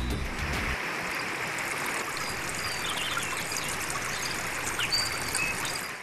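A forest waterfall and flowing stream give a steady, broad rushing wash of water, moderately distant and continuous, with no speech.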